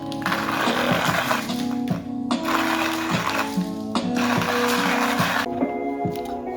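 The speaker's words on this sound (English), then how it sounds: "Alright, so I already got my grinder set up" A coffee grinder works through beans for a Kalita pour-over, a rough grinding whir repeating in regular cycles under a faint mechanical rattle, steady and close.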